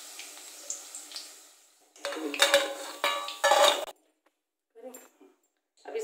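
Fried suran (elephant foot yam) pieces being lifted out of a pan onto a plate, with a few loud metallic scrapes and clinks of a utensil against cookware, followed by softer scattered taps.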